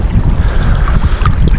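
Strong wind buffets the microphone on a fishing trip on the Tietê river, a loud, continuous low rumble with gusty swells and faint water noise, close and without speech.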